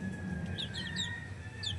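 Chickens in a breeding pen give soft, faint clucks and chirps in short bursts over a low background murmur, with no one speaking.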